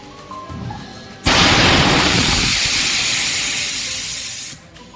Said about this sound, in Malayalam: പ്രഷറൊക്കെ നമ്മൾ റിലീസ് ചെയ്തു